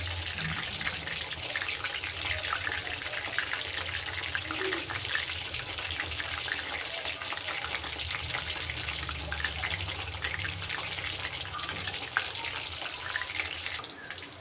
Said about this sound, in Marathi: तर मस्त गोल्डन कलर होईपर्यंत भाजून घेत आहे